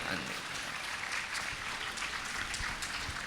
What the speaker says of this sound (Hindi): ताली बजाना है तो ढंग से बजाना है ना